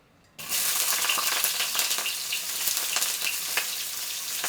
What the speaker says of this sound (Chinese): 起锅烧油，然后就是这个葱姜蒜